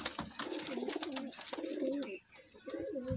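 Pigeons at a bird market, a golden red-eyed white-beaked pair among them, coo in repeated rising and falling phrases, close and fairly loud, with faint background chatter.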